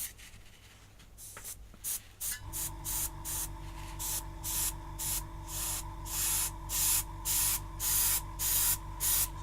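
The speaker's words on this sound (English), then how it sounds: "just gently spraying over it" An aerosol can of ice and snow spray hisses in a steady series of short, even spray bursts after a few soft handling noises, close and fairly loud.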